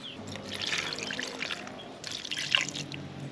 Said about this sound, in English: add a little bit water to the base because there is no water in it